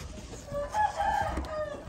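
A rooster crows once at moderate distance, the call brief and somewhat faint over low background noise.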